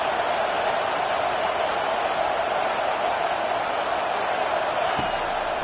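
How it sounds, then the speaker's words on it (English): Football stadium crowd roaring behind the defense on a third down: a loud, steady, unbroken wall of cheering noise that holds throughout. "Decibels rising as the crowd gets behind this defense on third down."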